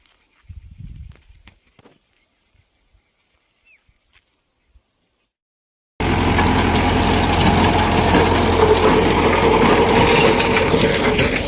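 A tractor engine idles loud and close, a dense steady rumble with a mechanical rattle that starts abruptly after several seconds of near silence and a few faint knocks.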